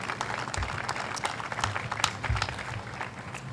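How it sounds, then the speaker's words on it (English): Steady applause from an audience at a groundbreaking ceremony, a continuous patter of many hands clapping at moderate volume with no talking. "Let's give all of them a round of applause for their work."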